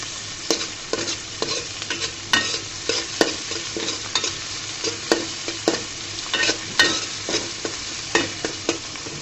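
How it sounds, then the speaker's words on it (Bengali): Prawns frying in a pan, a continuous sizzle punctuated by repeated scraping strokes of a spatula stirring them, close and steady with no voices. "চিংড়ি মাছটাও আমি ভাজা ভাজা করে নিব।"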